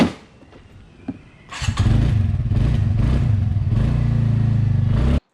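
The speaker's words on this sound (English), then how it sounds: "When you turn this engine on, you'll be surprised by the sound." A TVS Ntorq 125 scooter engine starts after a brief quiet stretch, then runs steadily at a loud, close idle with a rhythmic low throb and mechanical clatter, alone without any talk.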